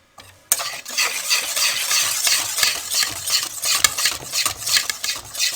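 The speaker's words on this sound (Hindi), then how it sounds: "मैदा थोड़ा थोड़ा करके इसमें शामिल करेंगे ताकि ये अच्छे तरीके से मिक्स हो जाए।" Flour being mixed into fruit cake batter, a spoon or spatula scraping and slapping around a bowl in quick irregular strokes, close and fairly loud, with no talking.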